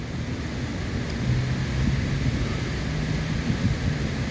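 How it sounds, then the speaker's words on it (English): Strong wind blows outdoors beside the river at Wargrave, a steady low rumbling roar buffeting the microphone throughout with no speech. "It's very windy. I hope it doesn't disturb the sound."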